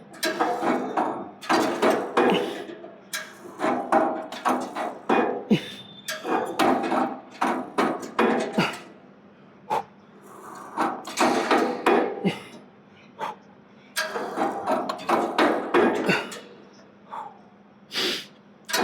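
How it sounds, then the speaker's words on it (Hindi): A gym machine's loose bolt knocks repeatedly during a chest exercise set, making rhythmic clanks interleaved with heavy, snorting breaths in groups of repetitions separated by short pauses. "ये जो बोल्ट है ये टकरा रहा है, तो उससे थोड़ी एनर्जी वेस्ट हो रही है।"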